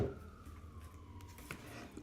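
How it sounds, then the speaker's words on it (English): Faint, distant emergency vehicle sirens wail outside with a slowly falling tone, low and muffled beneath background rumble. "There's a lot of sirens."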